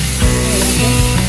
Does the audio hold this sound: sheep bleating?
no